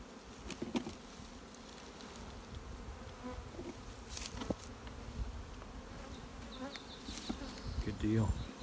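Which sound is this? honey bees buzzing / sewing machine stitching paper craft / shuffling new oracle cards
honey bees buzzing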